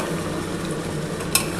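Chicken and capsicum being stir-fried in a pressure cooker: a steady close sizzle of oil with soft stirring scrapes throughout, then a brief sharper clink of the spoon against the metal near the end.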